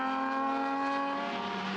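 Classic race cars with straight-six engines roar past on the Imola circuit, a loud, steady high-pitched engine howl with rich harmonics that rises slightly in pitch as they accelerate by, with no talking.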